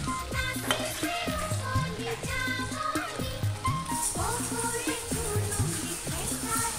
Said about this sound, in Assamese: গৰম তেলত কটা জলকীয়াখিনি দি দিছো অলপ ভাজি লৈছো জলকীয়াখিনি